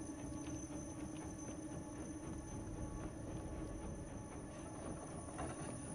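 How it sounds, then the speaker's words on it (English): A loud train rumbles steadily past in the video game INSIDE, a dense, continuous low roar with faint rhythmic clatter holding for the whole stretch, with no voices over it. "Got a loud train coming through."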